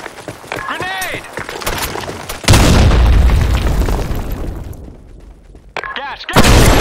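Grenade explosion in a video game, a loud, heavy boom that rolls out and fades over several seconds, preceded and followed by shouted voices and other game noise.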